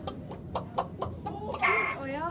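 Chickens cluck in a series of short, close calls, followed by a louder, drawn-out squawk near the end.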